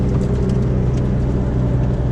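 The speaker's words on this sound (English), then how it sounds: "hear all that salt running up against the car there as I'm driving." Road salt sprays up against a car's underside and body while driving on salted winter roads, a dense continuous hiss and rumble mixed with low engine and tyre noise throughout.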